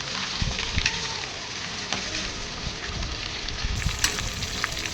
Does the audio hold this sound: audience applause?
no